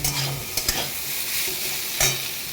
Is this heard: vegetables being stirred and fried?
yes